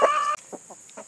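A rooster with missing tail feathers gives a few short, low clucks close by after a louder opening burst of fowl noise.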